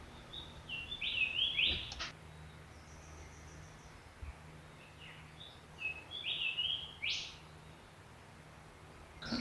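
Birds singing in the rainforest at Springbrook National Park, near Natural Bridge, with clear whistled phrases and chirps repeating at intervals over a quiet, steady background of faint insect hum.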